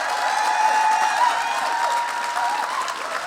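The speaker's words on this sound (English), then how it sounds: "can we please have a huge applause for these awesome creative people?" Sustained applause from a festival audience at a panel Q&A, a dense even wash of many hands clapping with crowd murmur and faint tonal music or voices running underneath throughout.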